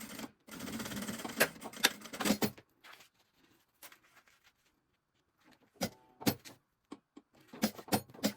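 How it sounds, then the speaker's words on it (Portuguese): A sewing machine stitching fabric for a maternity bag, a dense mechanical whirring run for a couple of seconds, then quiet, followed by scattered clicks and short bursts of stitching toward the end. "vou passar uma costurinha pra prender e depois eu coloco meu forro."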